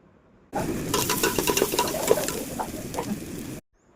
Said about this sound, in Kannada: ನಂತರ ಸಣ್ಣಕ್ಕೆ ಹೆಚ್ಚಿಟ್ಟಿರೋವಂಥ ಈರುಳ್ಳಿನ ಹಾಕಿ, ಈರುಳ್ಳಿ ಹಸಿ ವಾಸನೆ ಹೋಗೋ ತನಕ ಚೆನ್ನಾಗಿ ಫ್ರೈ ಮಾಡ್ಕೋಬೇಕು